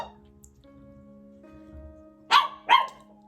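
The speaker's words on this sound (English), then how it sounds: "I told you he might bark." A dog in a quiet indoor room gives two sharp, loud barks close by, about half a second apart, after a few seconds of near silence.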